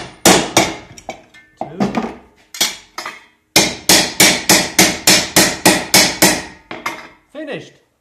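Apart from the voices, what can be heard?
hammering a hole punch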